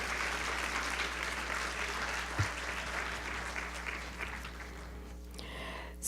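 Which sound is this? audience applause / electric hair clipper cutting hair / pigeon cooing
audience applause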